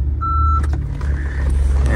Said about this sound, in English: It will also have a backup camera with a reverse beep.